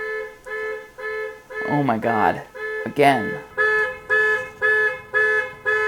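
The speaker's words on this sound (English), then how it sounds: "Now that the car alarm issue has been taken care of" A car alarm blares in a regular pulsing pattern of loud tonal honks, one roughly every half second. A person speaks over it partway through.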